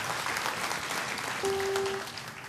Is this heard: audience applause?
yes